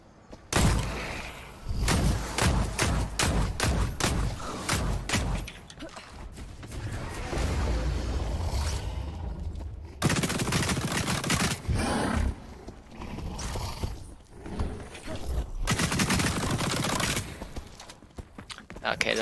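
Gunfire and creature roars from The Cycle: Frontier as hostile critters and brutes are shot down, sharp broadband bursts clustered early and late among snarls and game noise, with someone talking throughout.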